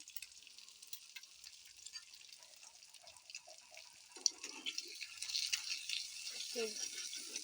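An egg frying in oil while Maggi noodles are made, a faint, steady crackling sizzle that thickens and grows a bit louder toward the end, with soft clinks and some quiet background voice.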